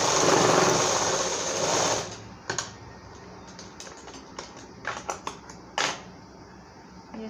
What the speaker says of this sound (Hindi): अब हमें दूसरे निशान पे सिलाई लगानी है।